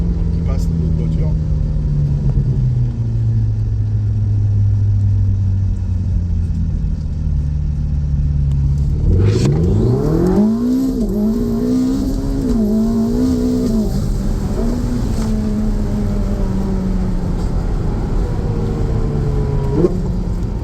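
A fast car accelerating hard while occupants talk and exclaim, engine drone climbing then shifting up through gears with rising whines, loud and close from inside the cabin.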